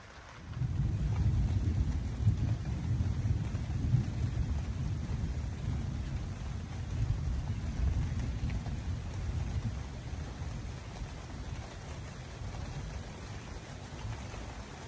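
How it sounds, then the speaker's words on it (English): Thunderstorm near a cabin building site, with steady rain and low rolling thunder rumbling continuously for the whole stretch, fairly distant and evenly loud. "Severe storms are almost here, so I'm fixing to leave."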